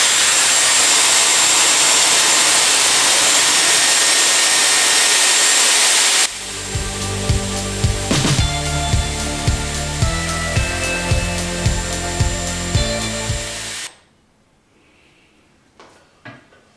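A Dyson Airwrap hair styler blows a loud, steady rushing hiss of air while curling hair, then shifts to a lower whirring with rhythmic clicks and knocks before cutting off abruptly, leaving near-silence with faint handling sounds.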